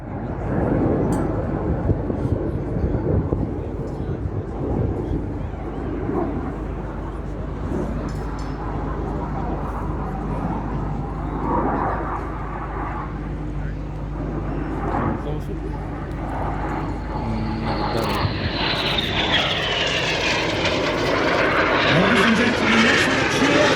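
Red Arrows jets perform an aerobatic flying display at the Gdynia Aerobaltic air show, their engines a broad distant roar that swells into a rising whine as they pass overhead, while an announcer speaks over the PA throughout.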